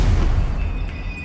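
In the video game Hogwarts Legacy an Expelliarmus spell goes off as a loud, deep boom with a short rumbling tail that quickly dies away, heard alone without any voice.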